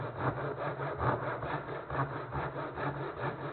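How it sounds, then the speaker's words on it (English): A hand saw cuts through wood with steady back-and-forth rasping strokes, about two per second, close up and fairly quiet. "Sawing only the part of the wood."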